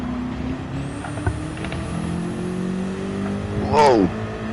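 Race car in a Bathurst racing video game driving with a steady engine drone, ending in a loud rising rev near the end; faint voices occur alongside.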